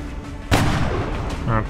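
Gunfire in the video game XCOM: Long War, a sharp, loud shot report that booms and then rings briefly. A second, softer blast follows near the end, and a voice can be heard faintly underneath.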